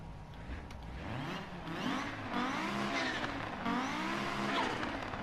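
An Audi Quattro rally car in the Dirt 4 racing game drives around a test track, its engine note rising and falling steadily through gear changes, with tire squeal and skidding on loose surfaces, close and continuous throughout.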